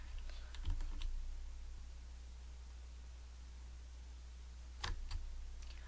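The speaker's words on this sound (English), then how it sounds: "If you just type and type anything" Bursts of quick keystrokes on a computer keyboard, a rapid clatter near the start and another short flurry near the end, with a quiet steady hiss in between and no talking.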